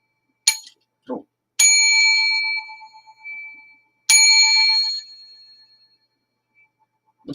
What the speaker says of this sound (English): It's a hotel bell, as opposed to the levity bell,